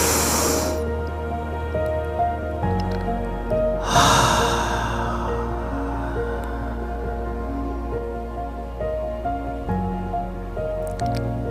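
A slow, steady breath drawn in during a guided breathing exercise, a soft airy rush that swells and fades twice over low, sustained background music.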